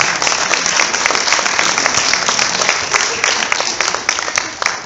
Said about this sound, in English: Give all my friends a huge round of applause.